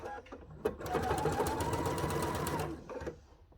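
A sewing machine stitching a cathedral window quilt panel hums in one steady close run of rapid stitching lasting a couple of seconds, starting and stopping with small mechanical clicks.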